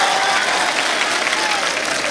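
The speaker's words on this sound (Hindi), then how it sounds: "एक बार जोरदार ताली बजाएं" An audience at a mushaira poetry gathering in Khargone breaks into strong, sustained applause, a thick wash of clapping with some crowd murmur underneath.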